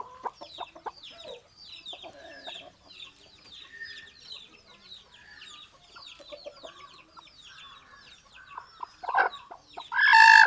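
A broody hen in a nesting box clucks and murmurs in a steady stream of short calls, with a louder squawk and a sharp flurry near the end.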